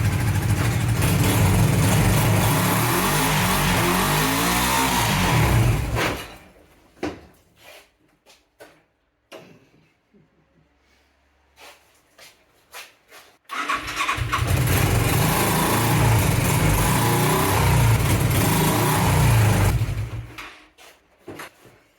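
A Yamaha XS400 cafe racer motorcycle engine roars loudly for about six seconds, drops to near silence with scattered clicks and brief attempts, then starts again and runs loud and steady until just before the end.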